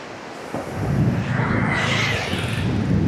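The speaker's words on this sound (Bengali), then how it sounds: "অনেক দূর থেকে ঢেউ আসতেছে।" Sea waves wash onto the sandy beach at Kuakata in a steady, loud roar of broadband surf with wind noise, swelling slightly after the first half second and holding without a break.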